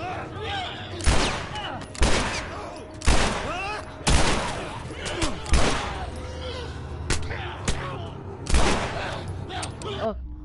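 Repeated gunshots in The Last of Us Part 1, sharp blasts spaced a second or two apart at moderate loudness, heard alongside game sounds and voices.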